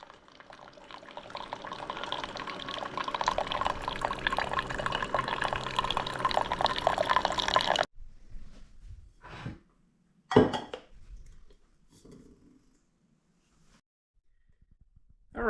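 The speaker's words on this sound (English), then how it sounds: "Alright, so we've brewed a few cups of coffee," A Keurig K-Express brews a strong 12-ounce decaf K-cup, with a steady hissing stream of coffee pouring into a cup for several seconds, followed by quieter drips and a few short clicks and gurgles.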